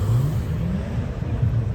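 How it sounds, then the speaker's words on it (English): A car engine revs loudly and steadily as the car leaves a car show near an airport, with a low rumbling drone holding close by throughout and no talking. "something else is revving that's about to exit"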